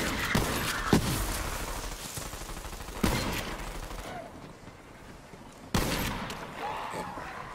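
Gunfire in the video game Borderlands 3, a few sharp loud shots spaced seconds apart over a busy rumbling game background, with bursts of clattering noise between them.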